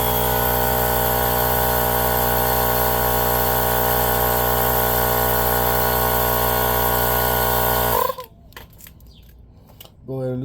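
An air compressor drones steadily and loudly while inflating a SunF Power II tire to seat the beads, then cuts off abruptly, leaving quieter hissing and faint clinks.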